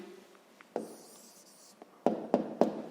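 Pen or pencil writing an answer by hand on paper: soft scratchy strokes, then a few sharp taps and quick marks near the end, close and quiet with no talking.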